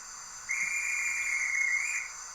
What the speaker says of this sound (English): one I always like, guard's whistle and driver's response